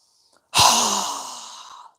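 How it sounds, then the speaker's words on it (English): A single strong exhale through a wide-open mouth during yoga breathing, a loud close breathy rush lasting about a second and a half that slowly fades, with silence before it. "exhale with a strong breath with our mouth open wide"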